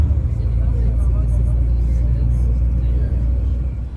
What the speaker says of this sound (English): we took a bus about a half hour into town